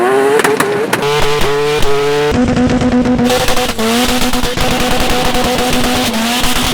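A twin-turbo Mazda RX-7 FC rotary engine screams loudly and close, its pitch climbing in repeated sweeps with abrupt drops at each gear change, the rev cycle repeating several times.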